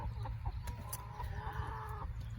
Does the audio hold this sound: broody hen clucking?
yes